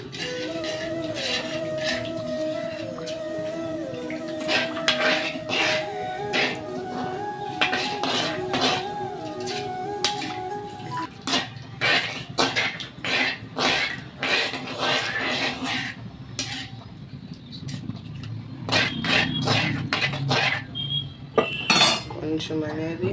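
A metal spoon stirs and scrapes rasam ingredients in a pot, giving repeated clinks and knocks in uneven bursts, close and fairly loud, with some tonal ringing early on.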